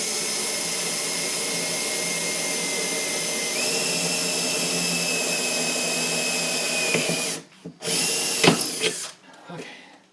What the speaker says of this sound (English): It's pretty easy to break bits when you're drilling like that.